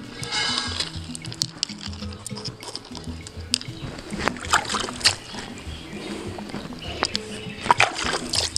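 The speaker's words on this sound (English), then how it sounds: "I would like to pour a little bit of water on it for you to see." Water poured over a handmade glass bead still being worked, giving an ongoing close splashing and sloshing with scattered sharp drips and clinks over a busy workshop background.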